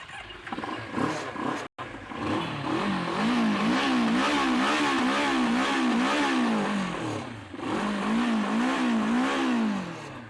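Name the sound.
car exhaust note while revving engine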